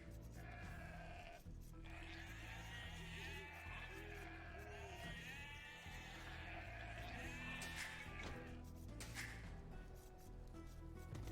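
Sheep bleating in the medieval strategy game Age of Empires II, repeated wavering bleats over a dense, continuous game soundscape with background music, fairly faint overall.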